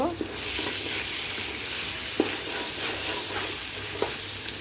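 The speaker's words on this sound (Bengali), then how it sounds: "ধুয়ে রাখা পোলার চালগুলো এখন দিয়ে দিব পোলার চালগুলোকে নেড়ে চেড়ে নিব" Polao rice grains being stirred and fried in a pan with bay leaves, giving a steady close sizzle with a few sharp scraping clicks of the spoon.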